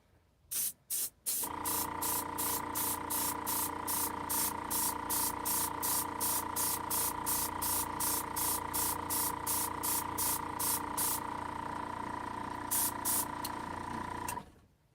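Pink paint is sprayed in a long run of rapid, evenly pulsed hissing bursts that sit close and loud over a steady background hum. A few last bursts follow before it stops.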